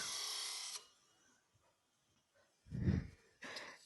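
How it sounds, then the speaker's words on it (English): A negative rake scraper cuts black walnut on a lathe, first as a short bright shaving hiss, then after a quiet gap two brief rasping scrapes, close and soft. "We're going to bounce our hand up and down using it as a negative rake scraper"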